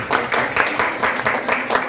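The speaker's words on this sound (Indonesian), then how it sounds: "Tepuk tangan buat kelompok 4" Students in a classroom clap for a group, a short burst of brisk, rhythmic clapping close by.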